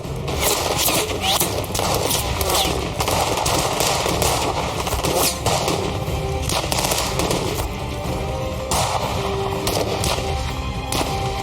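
Sustained automatic gunfire from a mass shooting scene in the 2021 action film Black Easter, loud and dense bursts of rapid shots running throughout with a busy, chaotic soundtrack underneath.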